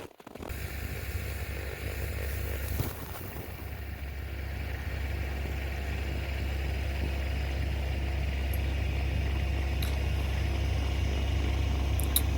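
A Kubota B2401 compact tractor crawls slowly in reverse in low range, its diesel engine giving a steady, close, even drone that holds constant for the whole stretch, with no talking.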